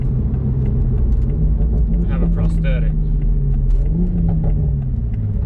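A tuned Toyota Supra's engine rumbles low and steady throughout, with a brief rise in pitch near the end, while someone talks over it from inside the car.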